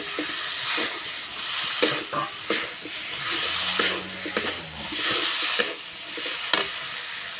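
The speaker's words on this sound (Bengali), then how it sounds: "মশলা কষানো হয়ে গেছে, এবার ভেজে রাখা আলু দিয়ে দেবো।" Fried potatoes go into a pan of cooked spice paste for an egg and potato dhokar dalna, setting off a loud, continuous sizzle with scraping stirs and soft clunks close by.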